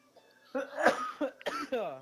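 A person coughs a few times in quick bursts, close up, with rough throaty sounds between.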